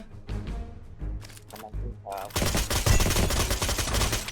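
Gunfire in the Free Fire battle royale video game, a dense burst of rapid automatic shots filling the second half after scattered sounds, loud and continuous, with someone talking over the action.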